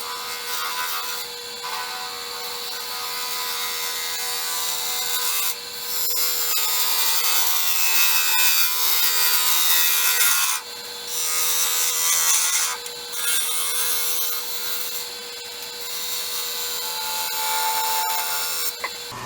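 A stabilized wood blank being turned on a lathe for a tea light holder, with a loud continuous scraping hiss from the cutting tool that stops briefly several times between passes, heard alone.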